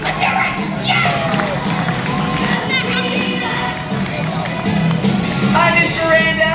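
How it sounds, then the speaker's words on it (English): A crowd of children and adults cheers and shouts at a Central Florida theme-park event, a lively babble of voices with excited calls rising throughout, the applause itself buried under the cheering. "give a big round of applause for our Royal Commander"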